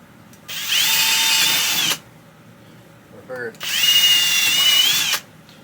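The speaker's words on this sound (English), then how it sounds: "Getting these drilled now would be the best thing to do." A power drill runs in two bursts of about one and a half seconds each, loud and close, whirring at steady speed, with a short mechanical rattle between them.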